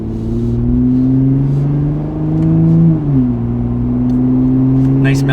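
A Jeep Wrangler JL with an MBRP high-clearance muffler bypass exhaust accelerates on a highway: a deep engine drone holding steady, dipping briefly in pitch as it shifts, with a throaty exhaust rumble heard up close from inside the vehicle.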